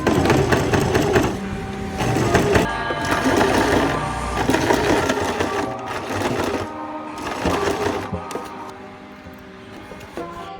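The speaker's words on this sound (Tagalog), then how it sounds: "For the last step, tatahiin ko lang ulit yung sides para tapos na tayo." A sewing machine stitches the sides of altered old clothing, running loud and close in rapid rattling bursts with brief pauses, no talking.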